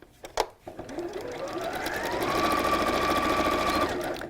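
A sewing machine stitching a pleated bag, starting with a couple of clicks then running into a steady, close whirring hum that holds at an even pace.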